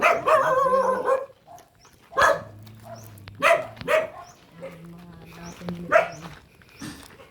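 A dog barks repeatedly nearby, loud and irregular, with short pauses between bursts and a few whiny yelps.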